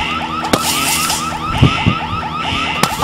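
A car alarm cycles through rapid warbling, chirping siren tones, loud and close, with a few sharp bursts layered on top and no speech.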